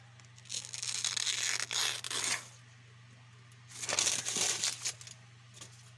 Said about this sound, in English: Back to me attempting to slice the paper.